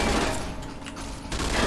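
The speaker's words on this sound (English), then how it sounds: "So now it's shooting the bad guys." Gunfire in the video game Fallout: New Vegas as enemies are shot, a dense burst of loud, rapid shots and booms that fills the short stretch with no voices.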